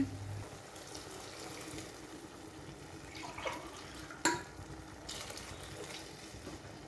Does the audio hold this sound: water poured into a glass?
yes